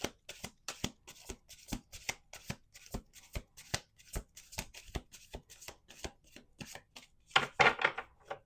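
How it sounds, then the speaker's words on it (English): Sharp, rapid riffling clicks of cards being shuffled, repeated in quick bursts close by, with a louder flurry near the end. "Let's do 2 more shuffles."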